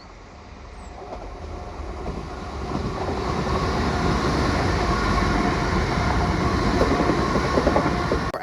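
British Rail Class 334 electric multiple unit passing on a railway line, a rising roar of wheels and motors that swells over the first few seconds and then holds loud and close with rhythmic rail clatter.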